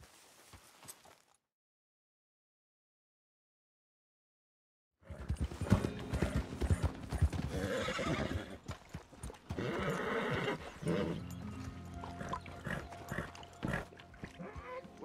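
A horse in the Red Dead Redemption 2 video game clip-clops and whinnies after a few seconds of silence, with hooves thudding steadily and close by.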